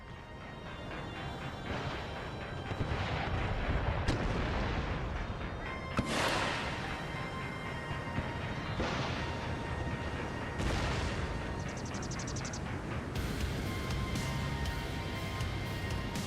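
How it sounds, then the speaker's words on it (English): Booming artillery fire in Total War: Empire, with several heavy howitzer-style blasts and rumbling impacts spread over a continuous battle din, some sharper shots standing out. "Once the howitzer gets in place"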